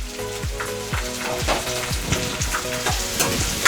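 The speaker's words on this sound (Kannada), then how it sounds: "ಇದು ನೀಟಾಗಿ ಫ್ರೈ ಆಗಬೇಕು." Chopped medium onions fry in hot oil with curry leaves for a dhaba-style tomato curry, giving a steady close sizzle broken by regular scraping stirs about every half second.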